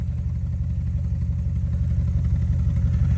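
An Audi RS5 V8 with a Scorpion exhaust idling and burbling nearby, a steady low throbbing pulse that stays even without any clear rise in revs.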